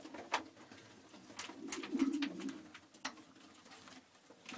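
Low, rolling coos from pigeons on deep litter in a loft, fairly faint, with scattered rustles and wing flaps and no one talking.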